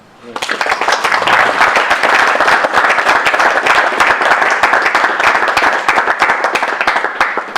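Loud, full applause from an audience at a sustainable cities forum on Vancouver Island, thanking three panelists; it swells in quickly and stays dense and steady throughout, with a murmur of voices mixed underneath.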